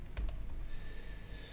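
Rapid typing on a computer keyboard, a quick burst of close, crisp key clicks at the start followed by quieter tapping over a faint steady hum.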